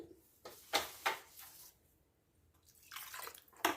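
Water is poured into a simmering prawn curry in a pan, giving soft splashing bursts and splatters in uneven pulses, quiet and close with no talking.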